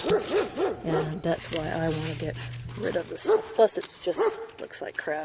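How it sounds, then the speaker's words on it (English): A neighbor's dog barking repeatedly in a rural setting, a string of sharp barks and yips mixed in with someone talking over them, moderately close. "That's my neighbor's dog."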